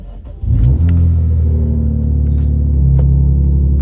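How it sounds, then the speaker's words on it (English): An Infiniti G35 drift car engine starts and idles loudly nearby with a deep, steady exhaust rumble, the tone shifting slightly partway through, a faint misfire unevenness in the running. "You can kind of hear it from the exhaust that it's still misfiring a little bit."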